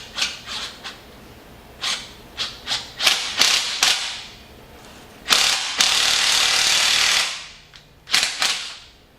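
Ratchet clicking as a 16mm socket turns an exhaust bolt on a Jeep Grand Cherokee EcoDiesel, bursts of close, loud clicks in short rhythmic strokes, with a longer sustained rasp near the end and no talk.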